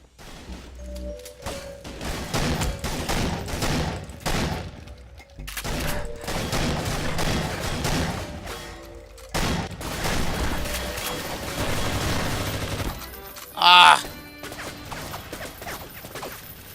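Repeated gunfire from shotguns and other weapons in GoldenEye: Source, a modern remake of the classic shooter, with bursts of shots spread across the stretch, a louder crack and ringing impact near the end.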